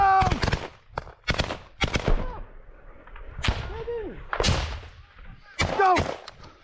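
In a war video game, a thrown grenade explodes amid gunfire: loud, close, sharp cracks and booming blasts come in irregular bursts with short gaps between them.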